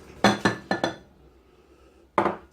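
A spoon clinks against a mug while stirring microwave cake batter of self-raising flour, caster sugar and cocoa powder: four quick ceramic taps in a row, a pause, then one more knock, close and clear.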